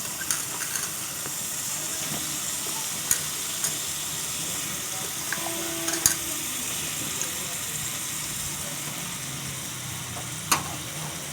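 Spice paste being stirred and fried in a pan for a village-style koi fish curry with vegetables, giving a steady soft sizzle and hiss with occasional scraping clicks of the spoon, moderately close throughout.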